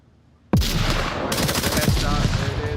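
Loud gunfire in a competitive shooter match breaks out after a quiet moment, a sharp burst followed by rapid repeated shots that keep rattling close by, with faint voices underneath.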